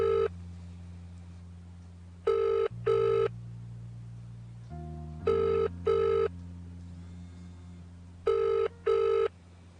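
A telephone rings on an unanswered call, with paired ring bursts repeating at regular intervals over a steady electronic tone, close and clear with no talking.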